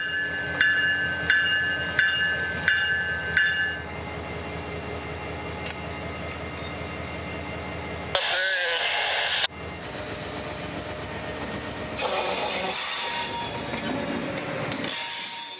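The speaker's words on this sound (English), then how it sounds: "755 has to run around his entire train here at 30th Street before backing it all the way into the facility." CSX local freight 755 running around its train at 30th Street in Tampa: steady rolling rumble with rhythmic wheel clicks over rail joints, squealing wheels, and a burst of loud broadband noise near the end, close and continuous.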